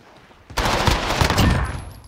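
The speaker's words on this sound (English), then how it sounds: "Oh my god, shotgun." Shotgun firing in a first-person shooter video game, a sudden loud burst of blasts that starts abruptly and rattles on for about a second and a half before fading.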